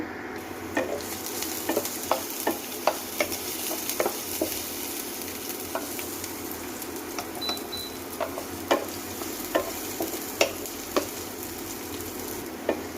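Chopped garlic fries in hot white cooking oil in a wok for a Chinese-style dish, giving a steady close sizzle broken by sharp, irregular clicks of stirring with no talking.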